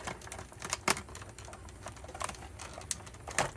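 Scissors or a blade snip and crunch through the plastic and card packaging of a GI Joe Valor vs Venom toy set, giving several short, sharp, close clicks and cuts spread unevenly over a few seconds with no talk.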